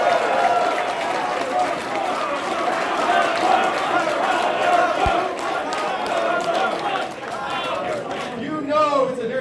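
A large crowd cheers and shouts at a presidential campaign rally in Las Vegas, a sustained roar of many voices with whoops and clapping that fills the whole stretch without letup.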